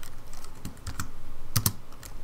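Computer keyboard typing, a run of quick, close keystrokes with a sharp double click near the end, steady and clear with no talking.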